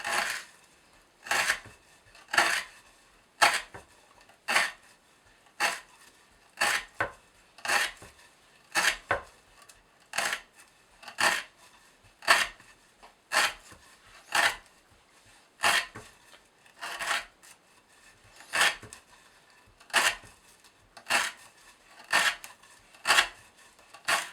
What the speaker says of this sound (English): I can tell that the knife isn't wanting to cut as well as before.